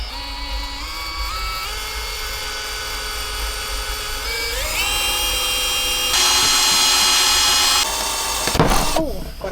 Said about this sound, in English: So I'm going to drill. Drill a hole in our table.